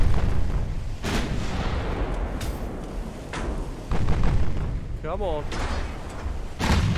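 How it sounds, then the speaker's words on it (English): Heavy battleship gunfire in the naval video game Ultimate Admiral Dreadnoughts, repeated deep booming salvos rolling over a constant rumble, with someone talking briefly over the barrage. "Come on, battleship. We need you, buddy. Start landing shots, man."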